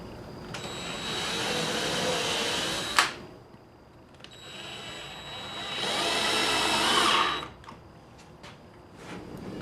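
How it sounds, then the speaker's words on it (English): A power drill whirs in two sustained bursts of a few seconds each, drilling a pilot hole and driving screws into a Murphy bed frame, ending with a sharp click, with brief pauses between. "go ahead and drill your pilot hole and start your screws"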